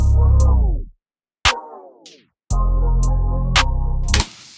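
Music repeatedly drops in pitch and slows down, stuttering into silence between bursts, with sharp clicks marking each restart.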